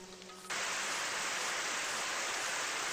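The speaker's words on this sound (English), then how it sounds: "What, it's raining inside or something?" Indoor sprinklers in the video game Super Danganronpa Another 2 burst on after a brief tonal lead-in, releasing a loud, steady rain-like hiss that fills the rest of the clip with no talking.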